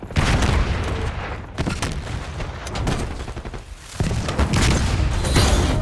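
Explosions and dense gunfire in a Call of Duty Black Ops 6 multiplayer hardpoint match, with a flashbang grenade bursting amid rapid loud shots and booms that continue for several seconds, with brief game voice callouts.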